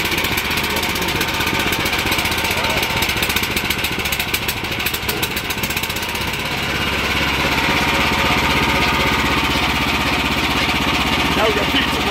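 A small engine on an MW mining machine runs steadily after starting, a loud close drone that settles into an even idle, with a voice talking over part of it.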